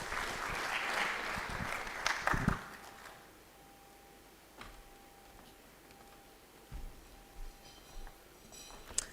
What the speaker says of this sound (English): Please let's give a warm round of applause to Mercy Kimalat of ASEC